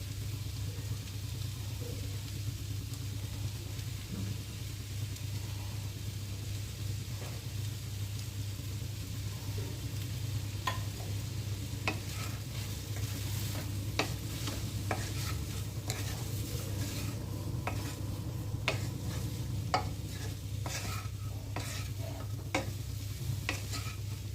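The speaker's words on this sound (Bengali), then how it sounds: "বেশ কিছুটা সব মশলা দিয়ে ভেজে নিয়েছি।" Broccoli frying with chilli powder, turmeric and salt in a pan, a steady low sizzle over a constant rumbling hum, with spatula scrapes and clicks growing more frequent toward the end.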